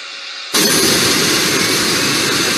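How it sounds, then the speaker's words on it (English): Eight real jet engines on a large scale model aircraft spool up abruptly, a sudden loud, steady roaring whine that starts after a brief quieter moment and holds continuously. "These are real jet engines on the right, 8 of them."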